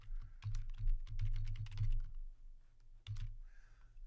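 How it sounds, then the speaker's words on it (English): A password being typed on a computer keyboard: quick, uneven clusters of close key clicks in two bursts with a short pause between them, fairly quiet, no talking. "I'm going to have to enter my password here"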